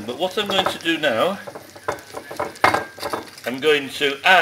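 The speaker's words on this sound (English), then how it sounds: "You can hear them sizzling and crackling" Jerk-style spicy pork ribs fresh out of the oven sizzle and crackle close by, with faint clinks of pans and utensils, under someone speaking throughout.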